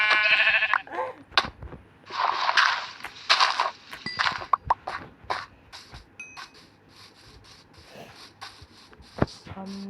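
Sheep bleat in a video game, with a clear burst of bleats at the start followed by more scattered bleats, clanks and shuffling game sounds.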